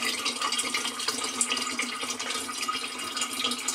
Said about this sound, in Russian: Заливаем все это чистой фильтрованной водой.